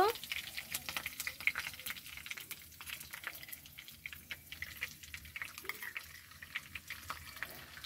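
Soaked, drained rice goes into hot oil with dried red chillies and curry leaves, producing a faint, uneven crackle and hiss with scattered pops, close but quiet throughout.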